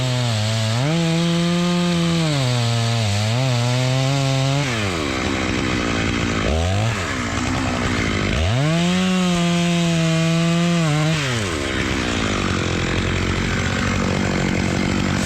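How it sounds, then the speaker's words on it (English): Chainsaw cutting through a white oak tree at the edge of timber, loud and close, its engine revving up and dropping back in long sustained pulls as it bites into the wood. "I want to make sure that my saw gets all the way through, so I'll just cut it."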